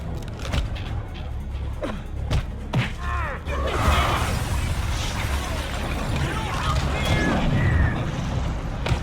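In the video game Watchmen: The End is Nigh, a deep booming blast bursts out and gives way to rumbling, crackling debris noise, following some sharp thuds and brief voices.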